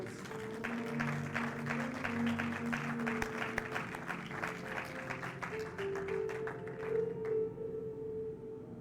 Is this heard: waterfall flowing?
no